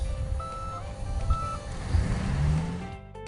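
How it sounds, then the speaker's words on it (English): Repeated steady electronic reversing beeps from a John Deere excavator, heard over a rumbling diesel engine and outdoor noise. "Whenever you hear beeps like that, it means the big machine is going to go in reverse"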